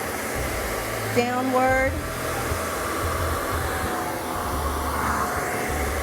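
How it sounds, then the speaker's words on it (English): Hair dryer blowing while styling hair: a constant close airy roar with a short whine of shifting tone partway through, and a brief spoken word near the start. "Let's try that with the blow dryer."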